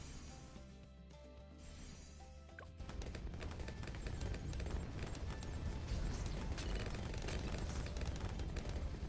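In the game Bloons TD 6, a mortar tower fires amid a dense, steady crackle of popping and booming impacts that builds partway through and stays fairly faint throughout.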